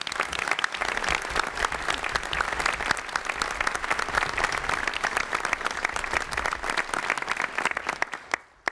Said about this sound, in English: I'd like to have everybody give a round of applause to our four presenters